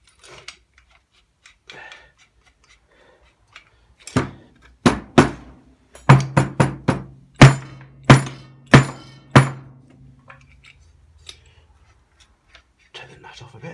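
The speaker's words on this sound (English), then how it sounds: "we can try and tap the column out gently" Gentle hammer taps knock the steering column out of a 1964 Mk1 Mini, about a dozen sharp, close metallic thunks at an uneven, quickening pace, set against quiet workshop surroundings.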